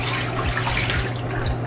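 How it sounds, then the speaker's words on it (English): Water is poured out of a basin in a brief rushing gush, close and fairly loud, with no voices. "then I'm going to dump this water,"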